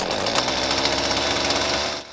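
A loud, dense, continuous buzzing drone of a cicada chorus, harsh and pulsing, ending abruptly after about two seconds.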